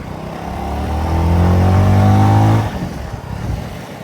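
Bajaj Avenger 220 Street cruiser motorcycle accelerating on a road, engine note rising in pitch and loudness for about two seconds before dropping off as the throttle eases, recorded close with wind noise.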